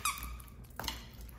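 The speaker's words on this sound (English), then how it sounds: "This one squeaks too." Squeaky plush tug toy for dogs from the Hug Smarts brand, giving a sharp squeak at the start and a second, shorter squeak near the end, close and fairly quiet.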